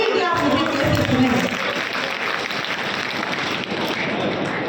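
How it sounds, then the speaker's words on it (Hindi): Audience at an Indian Hindi poetry gathering (kavi sammelan) in Unnao breaks into sustained applause, a dense wash of clapping that stays loud and steady throughout. "एक बार सभी लोग ऊपर हाथ करिए और तालियां बजाइए"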